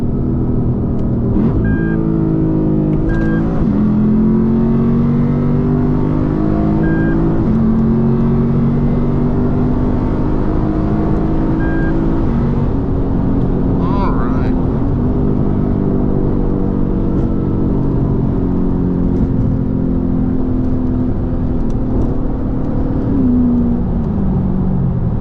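Lexus IS F V8 running on E30 fuel, pulling hard in manual mode without sport mode: a loud, sustained engine roar with rising harmonics through the gears, heard close from inside the cabin with no talking.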